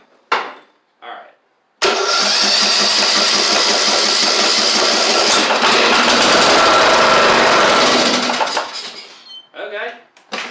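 A Husqvarna YTH2042 riding mower's engine cranks and catches, then runs loud and close at a steady idle for several seconds before cutting off, with someone talking briefly before and after.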